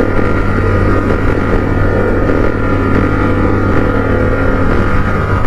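A Cafe 400 motorcycle converted to a bobber drones steadily while riding, loud and close with constant wind and road rumble and no break in the sound.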